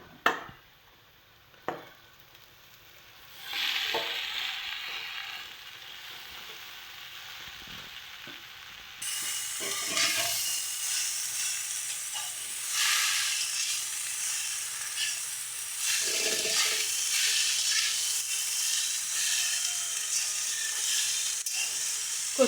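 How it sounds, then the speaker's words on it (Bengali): Chopped taro and golden-browned onion sizzle steadily in a pan, loud and continuous, with spatula stirring scrapes throughout after a couple of sharp knocks at the start. "কচু আর পেঁয়াজটাকে খুব ভালো করে মিশিয়ে নেব।"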